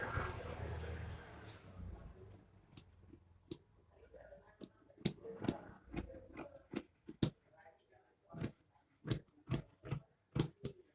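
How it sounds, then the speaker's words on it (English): Scissors cutting out a second fabric sleeve for an off-shoulder smocked dress, heard as a run of sharp, close snips that quicken into a steady rhythm after an opening stretch of faint rustling. "I'm going to cut it out just like this."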